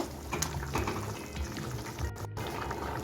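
Chana dal simmering in a pot seasoned with salt, sugar and chilli, a soft continuous bubbling and liquid churning at moderate level for a few seconds, with no talking.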